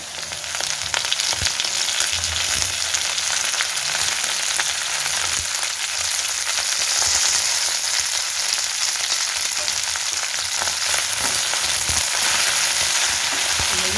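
Washed fenugreek greens fry with potatoes in a pan, giving a steady, loud, close sizzle with soft scraping and stirring noises throughout and no talking.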